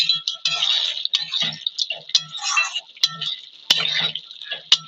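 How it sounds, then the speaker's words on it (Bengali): A spoon stirs a goat meat curry in a pot, producing irregular metallic clinks, taps and wet scraping in quick uneven bursts, close and fairly loud. "এবার একবার নেড়ে দেবো"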